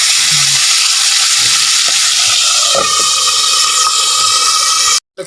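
Food frying in a pan at home, a steady loud sizzle and hiss running almost the whole time, with faint clinks of stirring, before a brief cutoff near the end.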